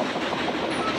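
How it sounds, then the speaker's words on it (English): A loaded Norfolk Southern coal train from the Pennsylvania mountains rolls past close by, a steady loud rumble of wheels and railcars with faint clickety-clack throughout. "loaded coal train from the mountains of Pennsylvania"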